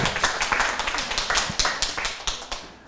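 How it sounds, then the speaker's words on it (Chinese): An audience claps at a lecture in a hall, a steady patter of many hands that stays fairly loud and even throughout, with no speech over it. "请大家掌声欢迎"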